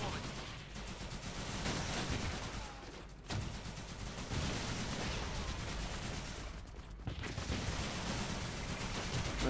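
Battlefield gunfire in the strategy game Blitzkrieg 3 with Soviet forces: rapid, sustained volleys of shots and rattling bursts, briefly dropping off twice before resuming at full intensity.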